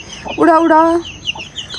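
A hen gives a loud, drawn-out cluck close by, followed by softer high peeps from chicks nearby.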